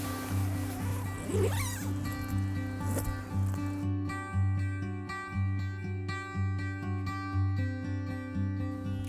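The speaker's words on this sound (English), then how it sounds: "then you can zip yourself in for a completely bug-free enclosure" The zipper on the door of a Tentsile UNA one-person tree tent is pulled shut in a few quick, close strokes early on, followed by steady background music.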